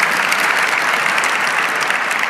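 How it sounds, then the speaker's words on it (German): A conference audience gives a build crew a dense, continuous round of applause, uniform and fairly loud with no voices standing out. "noch ein Applaus für die Baucrew"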